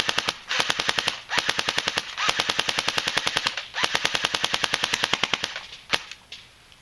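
Jing Gong AK-47S airsoft gun firing on full automatic: loud, rapid bursts of sharp, evenly spaced clacking shots, separated by brief pauses, ending with a single shot.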